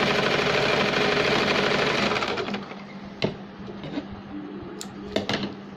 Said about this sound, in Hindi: इस तरह से हम दोनों मोहरी को फोल्ड करके सिलाई लगाएंगे